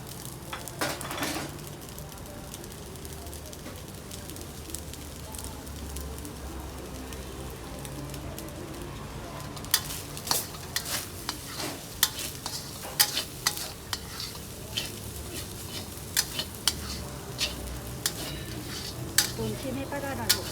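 Thai Tom Yum fried rice stir-fried in a pan, a steady sizzle under continual scraping and clattering of a utensil against the metal, with sharp knocks getting louder in the second half.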